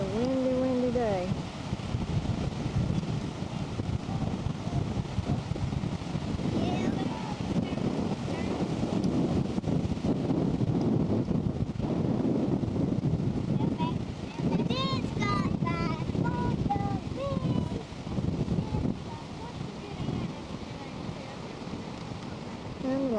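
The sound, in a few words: strong wind blowing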